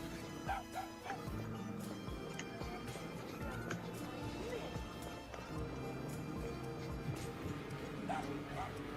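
A dog yips and barks in quick irregular bursts through the scene, mixed with people talking and other background noise.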